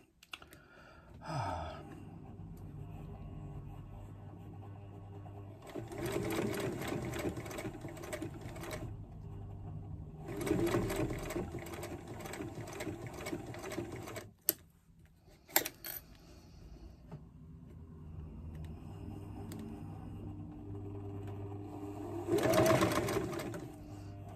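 A Pronto sewing machine driven by a small foot pedal runs forward in several bursts of fast, even stitching clatter separated by pauses, with a few clicks and knocks between runs.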